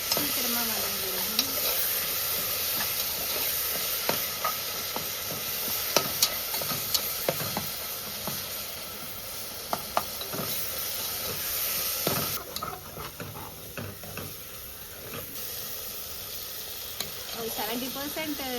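Chopped tomatoes with salt sauté in a hot pan, giving a steady close sizzle and hiss with repeated scraping knocks of a spoon stirring throughout.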